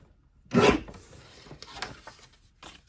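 A paper trimmer blade slides through cardstock in one short, loud rasping swipe, followed by quieter rubbing and paper handling.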